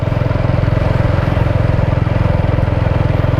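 A motorcycle engine running steadily during a short Sunday ride, a close, loud, evenly pulsing throb that holds the same pace throughout with no revving.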